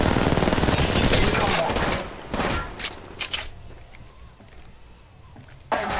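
Gunfire in Apex Legends Mobile: dense rapid bursts of automatic shots up front, followed by scattered single cracks and a sharp shot near the end, with in-game voice lines spoken over the action.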